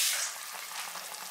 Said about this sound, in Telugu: ఇప్పుడు మిక్సీ పట్టిన ఈ పాలకూరను వేస్తున్నా. ఇది కొంచెం ఆయిల్లో వేగాలి.